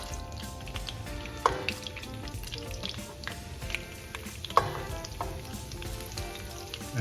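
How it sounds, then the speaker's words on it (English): Onions sizzle in hot oil as they are stir fried, a steady crackle broken by occasional scrapes and clinks of a spatula. "we're gonna start stir frying all the vegetables"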